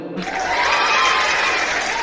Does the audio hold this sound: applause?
yes